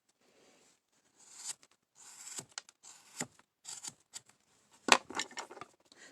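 A blade cuts across a small carving for a mini nativity shepherd, producing faint, close, intermittent scraping and rasping strokes separated by quiet gaps.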